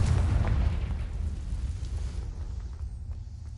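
Spell blast from Confringo in Hogwarts Legacy, a loud low rumbling boom at the start that slowly fades into a dull lingering roar, with no talk.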